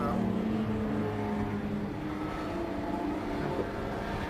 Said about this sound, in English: That's the Hines and Fitzgerald car going through